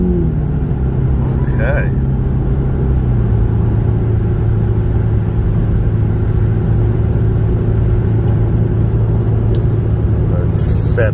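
A 2007 Infiniti M35 Sport accelerates onto a highway with a constant loud engine and road rumble heard from inside the car, while a voice speaks briefly.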